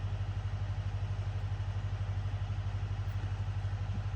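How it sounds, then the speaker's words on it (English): A tractor engine runs at a steady idle close by on an off-grid homestead, a constant low rumble with an even mechanical throb and no voices. "listen to that tractor run"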